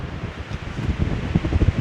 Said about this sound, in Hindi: यहाँ इतनी तेज़ हवा चल रही है जिसकी कोई हद नहीं।